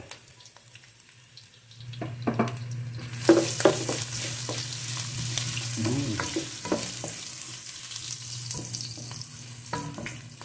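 Ginger frying in oil for a milkfish dish: a sizzle that swells after a quiet start, with clinks and stirring scrapes close by and a low hum beneath.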